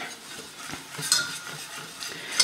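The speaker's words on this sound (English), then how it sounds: "I'm just going to get that nice and whisked" A whisk scrapes and clinks against a pot as cornstarch is beaten into a milk-based sauce for Greek lasagna, with light metallic taps and soft stirring swishes, close and clear.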